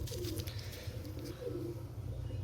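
Pigeons coo steadily from close by in a nest where a chick has just hatched, their low throaty rolls repeating throughout without a break.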